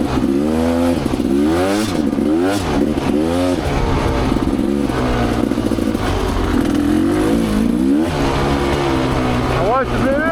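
Rieju Ranger motorcycle ridden on a sandy single-track trail, its engine revving up and down in repeated loud surges with gear changes, heard close from the rider's position and filling the whole stretch.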